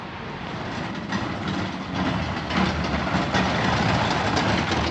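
A train rumbles along with a steady, close rolling roar and faint rhythmic rail clatter, building slightly in loudness toward the end.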